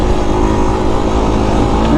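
A Honda TRX 250X quad engine runs steadily in third gear over rough terrain, a loud, close, continuous droning motor with little change in pitch throughout.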